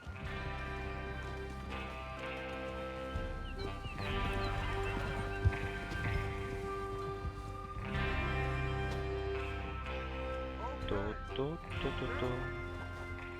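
Horses ridden by a gang heading out to rob a train in the video game Red Dead Redemption 2, with steady clip-clop hoofbeats and occasional whinnies under a sustained musical score and bursts of dialogue.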